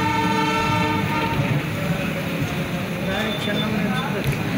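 Siddhaganga Intercity Express passenger train passing close by, a sustained loud multi-tone horn over rumbling wheels and clatter, with people talking nearby.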